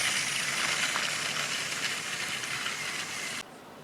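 A TOMY toy Henry steam engine runs along with a steady, close hissing chuff that drops away abruptly near the end.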